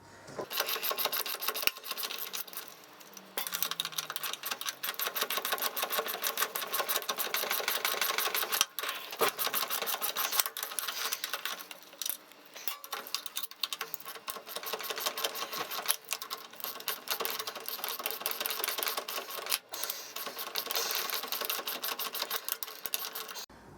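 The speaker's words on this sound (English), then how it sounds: "now we're going to remove the 3 nuts and bolts on the drop link" Nuts and bolts being removed from the rear suspension drop link of a 2013 Triumph Street Triple R, heard as steady close-up ratcheting and metallic clicking from hand tools that runs almost continuously, with brief pauses.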